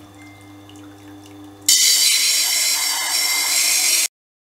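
A CBN 80 wheel grinds chips out of a knife edge with water applied. A low machine hum runs first, then a loud, bright, hissing grind starts abruptly, holds steadily for a couple of seconds and cuts off sharply.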